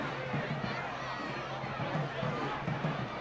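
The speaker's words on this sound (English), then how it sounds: "Crowd is really into it now" A football stadium crowd at a 2013 Vigor vs Murphy game roars in a steady, dense wash of cheering and chatter that holds loud and unbroken throughout.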